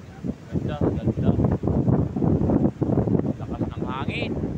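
Strong wind gusts roar and buffet the microphone in an open outdoor spot at Francesca's resort, a rough, uneven rushing that swells and dips for several seconds.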